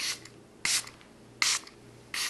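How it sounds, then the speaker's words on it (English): A fine mister of One Size Powder Melt Glass Setting Spray hisses onto a face in four short, even bursts spaced about three-quarters of a second apart, close and soft. "we're going to seal everything in with the new One Size Powder Melt Glass Setting Spray"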